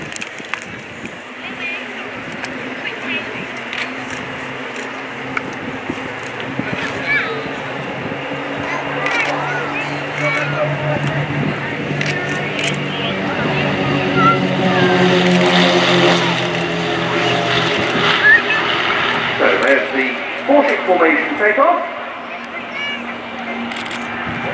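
Royal Jordanian Falcons aerobatic display aircraft at the RIAT 2015 airshow, four planes in box formation, begin their takeoff roll with a steady engine drone that swells midway beneath continuous public-address commentary.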